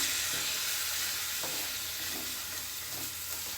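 A steady sizzling hiss from a hot pan over full flame, with soft scraping strokes of a spoon stirring through a thick bottle gourd masala gravy.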